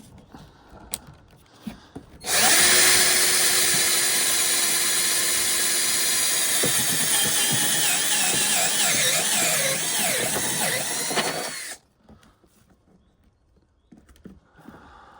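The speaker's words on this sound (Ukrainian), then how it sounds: "включаємо дриль." Power drill running continuously for about nine seconds while boring into the trunk of a Kia Carens 3 to fit an LED light, loud and close with a steady whine that dips slightly under load, then stops abruptly.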